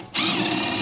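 A power drill whines steadily and loudly up close as it backs a rusted self-tapping screw out of an RV, starting suddenly after a brief quiet moment.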